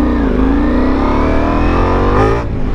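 A motorcycle engine roars loud and close, revving hard in first gear as it accelerates, climbing steadily in pitch for about two seconds before easing off.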